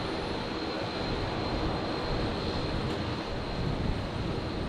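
A Dash 8 turboprop arriving at Brisbane airport gives off a steady, even engine roar with a thin high whine running through it, moderately loud and unbroken, with no one talking.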